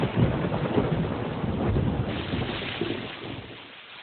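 Heavy rain pours in a steady, dense roar with a low rumble like thunder beneath it, loud at first and slowly fading toward the end.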